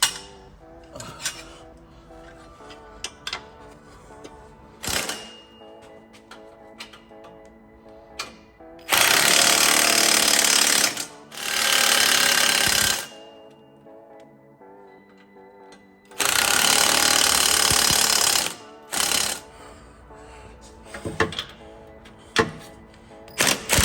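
Exhaust clamps being tightened on a Nissan 350Z Y-pipe: scattered metallic clicks and ratchet-like taps, broken by two long bursts of loud, hissing power-tool noise, with quieter mechanical knocks between.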